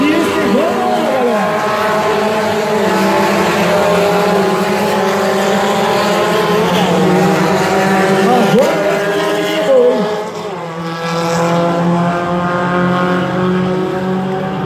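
Light-category drag racing cars at the Jacaraípe track roar loudly as they launch and accelerate, their engine notes sweeping upward through gear changes in a sustained, close howl before easing off near the end.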